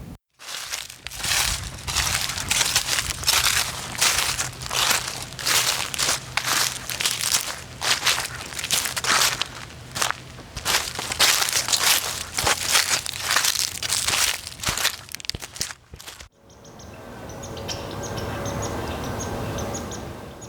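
Footsteps crunch through dry fallen leaves on a forest walk, a close and steady rhythm of crisp, crackling steps that stops abruptly near the end, leaving a quieter wash of outdoor ambience with faint birdsong.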